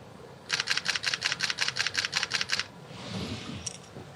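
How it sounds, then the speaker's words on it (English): Fujifilm camera with an XF 100-400mm lens firing a rapid burst of about a dozen evenly spaced shutter clicks, close and crisp, followed by a soft rustle. "I'm taking lots of pictures here"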